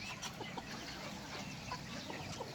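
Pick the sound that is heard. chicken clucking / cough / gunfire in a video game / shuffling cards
chicken clucking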